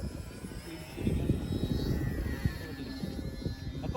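A XANE 50mm ducted fan RC model jet, an MB-339 Aermacchi, flies past with a steady whine and rumble that swells after the first second and holds at moderate distance, with no talking.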